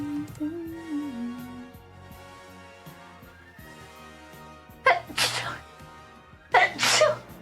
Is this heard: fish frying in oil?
no